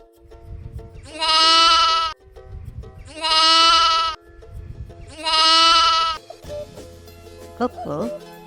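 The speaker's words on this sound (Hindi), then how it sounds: "लैम्प माने दुम्बा।" A dumba sheep bleating: three long, strong, quavering calls at steady intervals over a low background, followed by brief fainter sounds.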